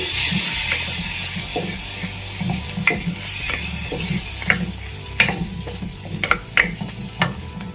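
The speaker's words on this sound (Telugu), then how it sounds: "బాగా కలుపుకోవాలి." Channa masala being stirred in a pan of sizzling oil, with a steady frying hiss and scattered scraping and clinking strokes of a spoon against the pan, close and moderately loud, without any voices.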